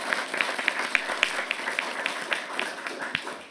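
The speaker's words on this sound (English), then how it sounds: "What I'd like to do is just offer a round of applause for stepping up." A small audience at a town council meeting gives a light round of applause, sparse individual claps ringing out in a loose, uneven rhythm over a quiet room.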